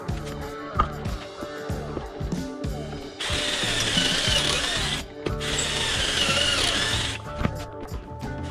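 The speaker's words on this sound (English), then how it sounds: "drill in the correct holes" Power drill driving screws into pocket holes while joining a DIY cabinet door, two long whirring bursts between ratcheting clicks and knocks from handling, close and loud.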